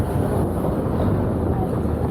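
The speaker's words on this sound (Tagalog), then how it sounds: "napakalakas ng hangin dito sa Nueva Ecija" Strong wind buffets the microphone during a long road bike ride through Nueva Ecija, a continuous low roar and rumble that stays loud and steady throughout.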